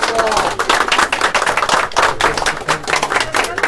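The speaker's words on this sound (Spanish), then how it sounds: "Yo les pido un fuerte aplauso para todos" Audience applause at a public political gathering, dense rapid clapping from many hands, loud and close, with some voices mixed in among the crowd.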